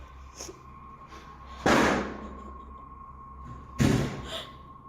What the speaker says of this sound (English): the door from the other room has slammed shut again